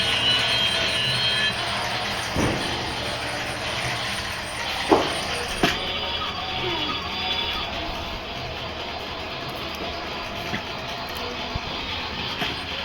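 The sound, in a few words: train running inside the house, likely a toy train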